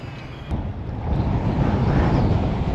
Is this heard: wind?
yes